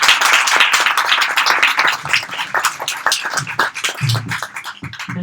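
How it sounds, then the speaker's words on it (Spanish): An audience bursts into loud, close applause, a dense flurry of clapping that holds for several seconds and gradually thins, with a few voices murmuring underneath. "Aplausos."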